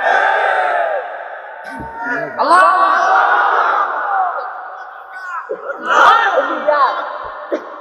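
A crowd at a Bengali religious sermon gathering shouts the slogan Nara-e-Takbir in loud, drawn-out massed voices that rise and fall in waves across the moment.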